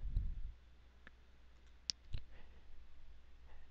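A few sparse computer mouse clicks while working in Autodesk Inventor, one sharp click near the middle standing out over a quiet room background.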